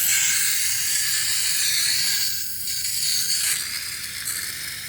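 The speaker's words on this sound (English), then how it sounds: "So, we're using this camp stove that I've never used before." A brand-new camp stove hisses steadily and loudly, a broad unbroken rush that dips briefly in the middle before settling back.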